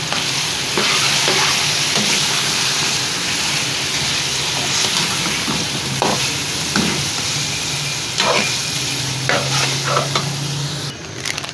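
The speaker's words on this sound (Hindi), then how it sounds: "अब शामिल कर देते हैं टमाटर। इसको भी भून लेते हैं।" Tomatoes frying for biryani hiss in a steady sizzle while a spoon scrapes and stirs through the pan in irregular strokes, close and fairly loud throughout with no talking.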